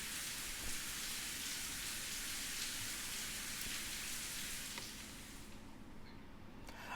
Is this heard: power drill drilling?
no